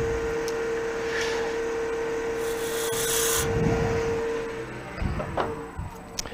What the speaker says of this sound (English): so I am just going to use a skew to clean up that inside edge.